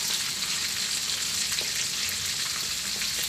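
Fermented pork sausage (naem) frying in hot oil in a pan, a continuous bright sizzle with crackling pops scattered throughout, close and alone without talk.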